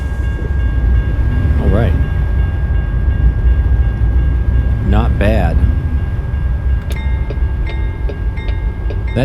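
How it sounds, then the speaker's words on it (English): In American Truck Simulator, a train in Washington passes a rail crossing, its rumbling wheels running throughout and its horn sounding two blasts. Someone talks briefly over the noise. "That train actually stopped for us, so we can go across the tracks with our oversized load."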